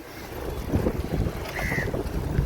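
Strong wind roars steadily into the microphone along an ocean shore near a causeway bridge after a cyclone, gusting and buffeting with waves and surf beneath.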